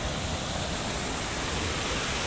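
Kabuuan Falls in Montalban, Rizal, pours as a loud, unbroken roar of rushing water, close and steady with no pauses or voices.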